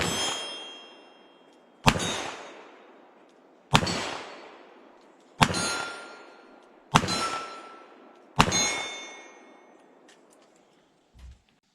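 Six sharp, loud gunshots from a lightweight Smith & Wesson 329PD .44 Magnum revolver firing .44 Special rounds at about 15 yards, spaced roughly one and a half seconds apart, each ringing off with a decaying echo, followed by a faint thump.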